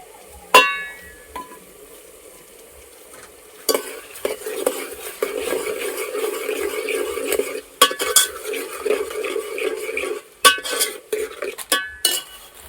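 Tomatoes tumble into a hot pan of paneer curry masala on a village stove and sizzle steadily, with repeated scraping and clinking of a spoon stirring against the pan, close and fairly loud throughout.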